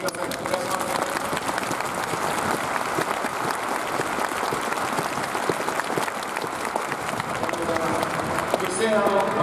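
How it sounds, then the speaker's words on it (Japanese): Stadium crowd at Showa Denko Dome Oita applauding during the Oita Trinita end-of-season ceremony, dense sustained clapping filling the space steadily for the whole stretch, with faint voices mixed in. "どうかあの拍手を"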